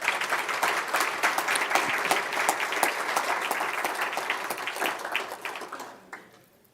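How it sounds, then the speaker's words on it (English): Warm, steady applause from a gala audience fills the room for several seconds, dense and even, before tapering off quickly at the end. "Please join me once again in giving them a warm hand of applause."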